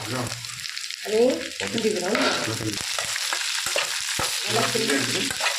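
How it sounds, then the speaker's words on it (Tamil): Green chillies and chopped beans frying in oil over tempered mustard seeds for a Tamil beans poriyal, a steady close sizzle with stirring scrapes and faint voice-like murmurs underneath. "அதில் நம்ம பச்சை மிளகாவும் பீன்ஸும் அரிக்கிட்டு அதை போட்டுக்கிறோம்."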